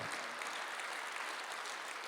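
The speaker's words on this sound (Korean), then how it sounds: "박수하세요" Congregation applause during a Sunday church worship service, a faint, steady wash of many hands clapping far off, with no voices over it.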